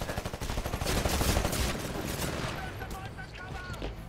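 Smart pistol gunfire in the video game Titanfall: a dense, rapid run of shots forms a continuous loud rattle that thins out toward the end.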